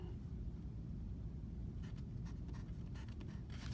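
Soft scratching of a pen on paper, a few short strokes in the latter half over a low, quiet background hum.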